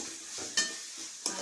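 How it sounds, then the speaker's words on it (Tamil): Quail pieces sautéing with curry leaves and coriander in a pan for a quail gravy, a soft steady sizzle broken by two sharp spatula scrapes, close and fairly quiet, no talking. "நல்லா வதக்கி விட்டுக்கலாம்"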